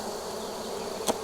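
Honey bees buzz around plastic hive frames in a newly caught swarm, a faint steady hum with one brief louder buzz as a bee passes close to the microphone.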